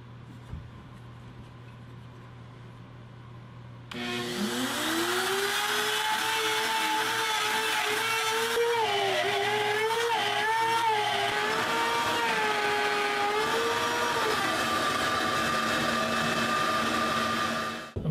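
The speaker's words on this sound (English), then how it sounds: "I'm using a quick little circle cutting jig that I made on the trim router" A trim router on a homemade circle-cutting jig spins up to a loud, steady whine and holds it for about fourteen seconds while the cut goes round. The pitch dips and wavers now and then as the bit bites into the workpiece.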